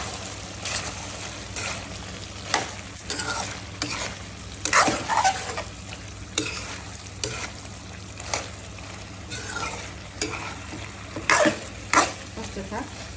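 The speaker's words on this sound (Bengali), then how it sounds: "কষিয়ে নেব। কষানো হতে থাক।" Brinjal sautéed with spices in a pan for a rohu fish curry with winter vegetables, irregular spatula scrapes and clatters over a steady sizzle, close by, continuing for several seconds without talk.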